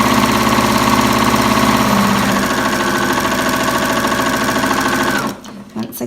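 A sewing machine stitches half hexie quilt pieces of premium quilting cotton, a loud steady rapid whir and needle hammering that runs several seconds, then stops abruptly.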